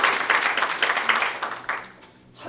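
A congregation at a Korean church in Connecticut bursts into brief, lively applause that fades quickly into near quiet before a few claps pick up again.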